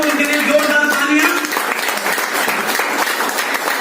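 Loud audience applause at a business seminar stage event, dense clapping that swells in over fading voices or music and then continues steadily on its own.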